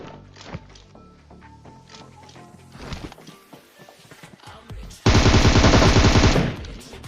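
Automatic gunfire erupts in a sustained loud burst in the battle royale video game PUBG, preceded by scattered single shots and footsteps in the game's soundscape.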